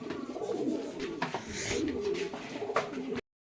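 Soft, repeated cooing of a Girribaz pigeon with a gentle throaty rhythm, close by, over faint background noise and no talking.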